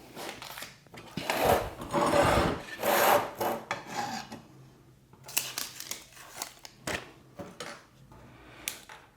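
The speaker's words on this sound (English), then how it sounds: "Now I've sanded my marks off." Sandpaper rasping over the rubbery surface of an air jack bag, taking off marker lines before a patch is glued on, in several close scratchy bursts of back-and-forth rubbing with short pauses between.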